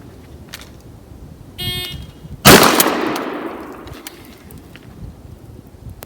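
A single loud blast from a Remington 870 pump shotgun fired from a right-handed stance, with a sharp crack and a long decaying echo, coming right after a brief buzzing tone, over faint background noise.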